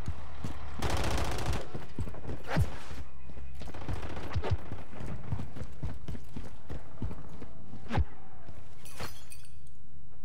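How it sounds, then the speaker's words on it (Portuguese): Gunfire in the Call of Duty Modern Warfare III video game during a capture-the-flag style match: repeated sharp shots and bursts, some loud and close, scattered irregularly over a busy background of game noise. "Tô tomando tiro."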